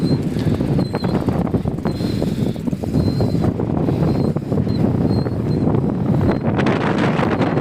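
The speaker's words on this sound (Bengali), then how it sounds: "অনেক বাতাস।" Strong wind blowing across open country on a cycling trip, a loud, steady rush buffeting the microphone with low rumbling gusts throughout.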